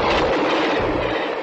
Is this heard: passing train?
yes